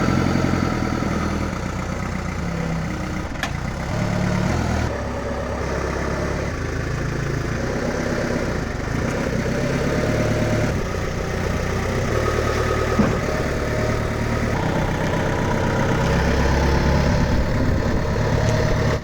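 A forklift engine idles steadily with a deep, continuous rumble and no talking, the sound close and unchanging for the whole stretch.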